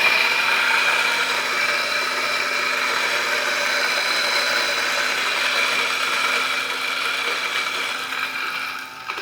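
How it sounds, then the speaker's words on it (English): A Turin DF54 coffee grinder grinds beans for pour-over, a steady close whirring hum with a gritty crunch that holds evenly for several seconds before tapering at the end. "Let's grind to the 54."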